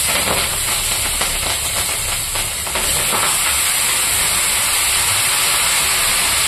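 Vegetables hiss and sizzle loudly in a hot pan as a dense, steady wash of frying noise that fills the whole stretch, close up and uninterrupted, with no voices.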